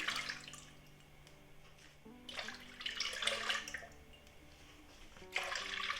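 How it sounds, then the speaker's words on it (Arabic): Milk pours into a pot in steady splashing bursts, strengthening and easing a few times, with faint music playing underneath. "بدي احط 3 كاسات حليب"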